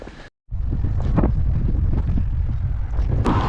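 Steady wind roars and buffets the microphone in low, gusty rumbles on a pebble beach in Wales, cutting out briefly near the start before blowing on without pause.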